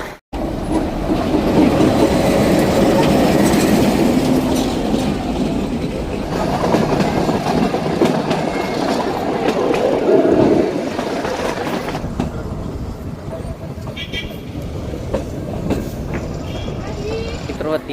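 A heritage train rolls through the Gir forest, its carriages rumbling loud and near with steady clickety-clack of wheels on rail, easing slightly in the last stretch, while passengers talk in the background.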